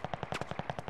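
Automatic gunfire in Call of Duty: Modern Warfare, a rapid, even stream of shots at about ten per second, moderately loud and steady with no voices over it.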